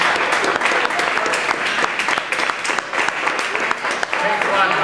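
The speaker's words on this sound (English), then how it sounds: "if you give him a warm round of applause" An audience gives a warm round of applause for a concert pianist, dense sustained clapping filling the room while a voice talks underneath.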